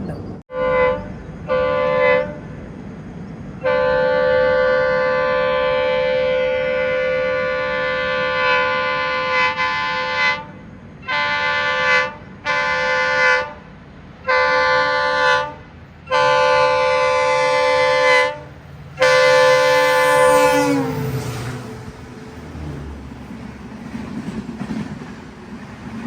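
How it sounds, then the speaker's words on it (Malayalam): Jan Shatabdi Express on a single-line track sounding a long series of loud horn blasts, some sustained and some broken into short toots, before the horn cuts off and the rumble of the passing train continues. "ജനശതാബ്ദി എക്സ്പ്രസ് ഇപ്പോൾ ഇതുവഴി കടന്നു പോകും"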